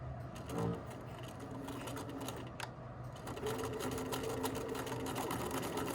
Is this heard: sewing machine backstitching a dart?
yes